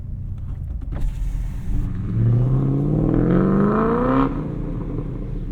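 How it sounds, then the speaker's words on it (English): A Chevrolet Camaro muscle car passes nearby, its engine rising in a loud, steady revving roar for a couple of seconds before dropping back, heard alone without talk. "Alright, so that's a real muscle car going."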